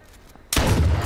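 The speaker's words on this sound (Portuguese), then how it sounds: "Nossa, o cara tá dando tiro." Gunfire in the video game H1Z1 cuts in suddenly after a quiet moment, a loud dense burst of rapid shots that fills the rest of the moment.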